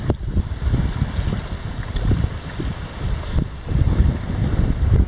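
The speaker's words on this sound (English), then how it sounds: "you can probably hear the wind" Steady wind buffets the microphone on a beach with a sailboat cruising offshore, a continuous low rumble with gusty surges and faint water wash, no talking.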